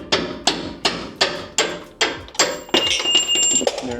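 Steady hammer strikes punching a bolt out on a Ford F-150 during a 2-inch leveling kit install, about nine loud close metallic blows in even rhythm, ending with ringing clinks.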